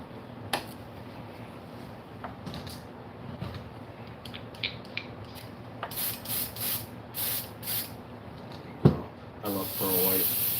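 Pearl white paint sprayed in short airbrush bursts onto a fishing lure, soft hisses repeating close by over a low background hum, ending with a longer steady spray.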